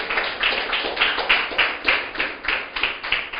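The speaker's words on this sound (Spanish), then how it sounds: "Aplauda al Señor Jesús." A church congregation claps in steady unison, about three beats per second, close and fairly loud, with no talking over it.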